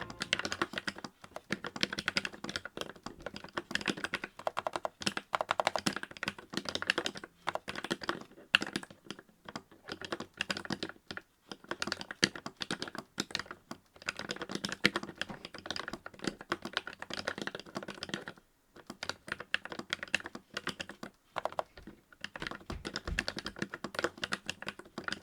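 Fast, steady typing on a Morgrie AIR 68 mechanical keyboard with quiet, non-clicky switches, a dense run of close keystrokes that continues for the whole stretch, broken only by short pauses.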